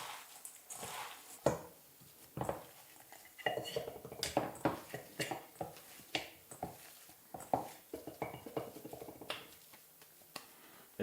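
Potato mixture with egg and breadcrumbs gets mixed in a bowl, a quiet run of irregular clinks, taps and soft squishy scrapes against the bowl, with brief talk now and then.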